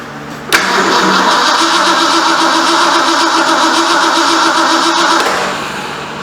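A 1973 Ford Mustang Mach 1 engine cranking without firing, a loud steady starter churn that begins abruptly and runs for several seconds before easing off, with no catch or idle.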